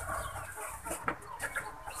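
Chickens cluck steadily and close by at a lively gathering of fowl, with overlapping calls and one sharper cluck rising briefly just past the midpoint.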